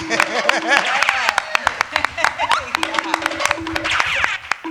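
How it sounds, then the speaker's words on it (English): Scattered clapping from a comedy pitch-show audience, individual sharp claps ringing out over continuous talking voices that carry on throughout. "That deserves an applause for sure."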